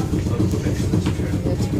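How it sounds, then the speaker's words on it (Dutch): Air compressor on a tram bound for Lobbes running with a steady, dense low rumble and mechanical chatter, close by and continuous throughout. "Nou, je hoort de compressor."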